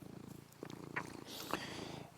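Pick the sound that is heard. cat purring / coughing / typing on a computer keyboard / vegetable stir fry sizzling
cat purring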